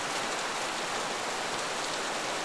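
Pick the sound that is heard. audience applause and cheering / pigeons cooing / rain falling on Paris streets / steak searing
rain falling on Paris streets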